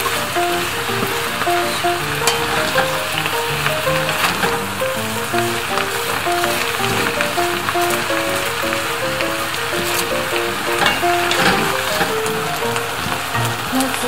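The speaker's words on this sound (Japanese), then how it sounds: "生姜を入れます" Ginger sizzling with venison in a Staub cast-iron pot, a steady close frying crackle with scattered pops, continuous throughout while a voice talks briefly.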